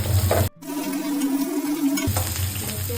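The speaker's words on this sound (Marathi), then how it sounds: "आपण आता मिरची घालून घेऊया." Onion, garlic and green chilies frying in oil in a pan, a steady close sizzle with a brief drop in the middle as the chilies go in, then the crackling picks back up.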